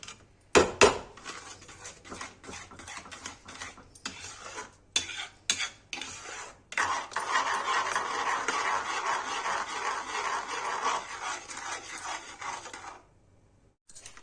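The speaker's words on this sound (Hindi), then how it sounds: "चलाते रहेंगे, नीचे ना चिपके। खूब चलाते रहेंगे" Kashmiri wheat flour halwa is stirred in a pan. Sharp intermittent scrapes and knocks give way to a continuous rhythmic scraping and rubbing, close and moderately loud, before ending abruptly.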